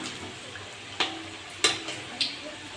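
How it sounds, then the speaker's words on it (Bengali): Cauliflower singaras deep-frying in hot oil while being turned, a soft steady sizzle broken by a few sharp clicks and taps of a utensil against the pan. "উল্টে পাল্টে ভালো করে ভেজে নেবো।"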